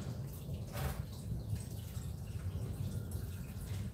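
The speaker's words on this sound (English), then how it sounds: "And that sounds like water coming out." Thin oil drains from the engine of a 2011 Jeep Wrangler in a steady, low, trickling stream that sounds like running water and continues close and fairly quiet throughout.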